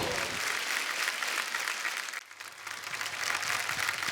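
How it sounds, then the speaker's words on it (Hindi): A studio audience on a comedy talk show gives loud, sustained applause to a celebrity guest, dense clapping that dips briefly midway and then surges back, with no talk over it. "बादशाह बाजी के लिए जोरदार तालियां"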